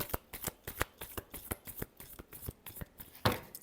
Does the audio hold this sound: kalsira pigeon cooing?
no